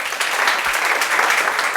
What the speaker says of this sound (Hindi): तालियां भी बच्चे के लिए